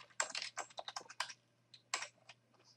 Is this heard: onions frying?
no